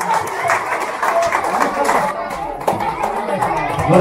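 Applause for parents at a school first-day welcome, a loud crowd of clapping mixed with children's chatter and voices, continuous and busy.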